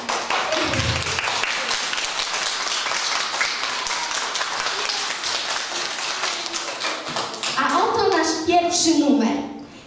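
Audience at a children's circus show clapping continuously in a lively, rapid patter, with voices talking and calling out over the applause near the end.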